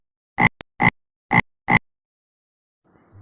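Four separate croaks from a frog by a swamp, evenly spaced, clear and close against silence, followed by a faint patch of rustling near the end.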